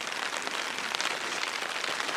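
Rain falling in an Alaskan canyon along an old mining trail, a dense, steady patter of drops hissing on the ground and brush throughout, with no voices.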